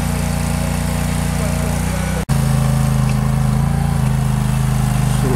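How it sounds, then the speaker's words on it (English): Small trenching auger digging a 20 inch trench for 240 volt and 24 volt electrical lines at a solar tracker install, a loud steady engine drone close by with a brief dropout, and talk over it. "This little auger is working really nice. Digging a 20 inch trench to bury our 240 volt lines and 24 volt lines."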